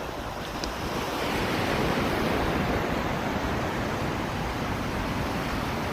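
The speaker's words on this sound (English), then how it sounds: "just let you listen to the waves here as my feet get wet." Waves on Lake Michigan washing in at Oak Street Beach in Chicago, a continuous loud rush of surf with heavy wind buffeting the microphone close up.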